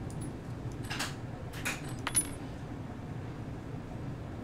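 In the video game Papers, Please, keys are set down with a few brief metallic clinks and jangles around the middle, quiet and close over a steady low background rumble.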